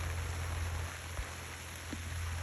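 Steady rain falls over a vegetable garden plot with squash and pumpkins, a soft even hiss with a low hum beneath and a couple of faint thumps, with no voices.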